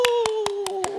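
Five sharp hand claps spaced at an even, unhurried beat during a church worship service, close and distinct, with a steady sung or hummed tone running underneath.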